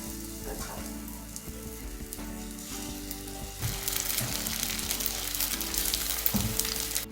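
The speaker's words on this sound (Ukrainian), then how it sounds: "На сковорідку вливаю олію і обсмажу млинці з обох сторін." Steady sizzling and crackling of eggless pancakes made with boiling water frying in hot oil in a pan, growing louder and busier partway through, with occasional clinks of a utensil.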